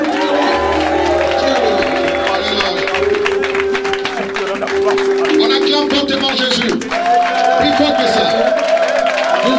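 Church congregation at a Sunday thanksgiving service applauding and cheering for Jesus, a loud, continuous wash of clapping and crowd voices with music sustained underneath.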